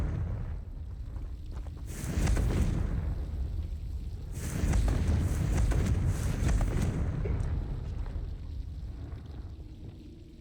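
A Confringo fire spell goes off twice in the Hogwarts Legacy video game, each blast a loud, broad whooshing roar that swells, lingers for a couple of seconds and fades over a low rumbling ambience, with no talk.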